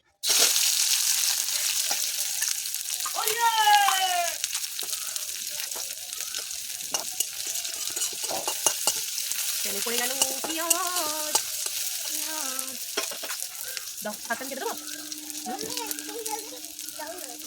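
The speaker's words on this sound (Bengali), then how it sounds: "পেঁয়াজ ভালো ভাজা হবে নুন দিয়ে দেবো" Onions fry in a pan with a continuous sizzle while a spatula scrapes and stirs them in irregular strokes, heard close. An adult and someone talk over the cooking.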